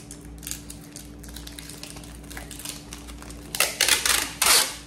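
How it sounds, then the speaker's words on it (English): Packing tape is pulled and pressed onto a cardboard box to reinforce it for shipping: quiet handling clicks and rustles, then a few loud, close tearing screeches of tape near the end. "we're going to reinforce this with our tape."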